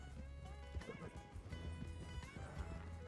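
A horse in the Red Dead Online video game whinnies and its hooves clop along, with rhythmic hoofbeats and a neigh sounding over game music and background effects.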